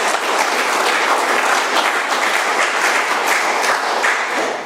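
A packed room at an AA meeting breaks into loud, continuous applause, dense clapping holding steady throughout before easing off right at the end.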